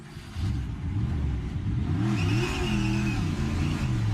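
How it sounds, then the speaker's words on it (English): A NASCAR Cup race car sliding to a stop on the back straightaway after a spin, running on flat tires: a loud, continuous low engine drone with wavering harmonics and a grinding, scraping texture, steady throughout. "You can hear the damage being done by the flat tires"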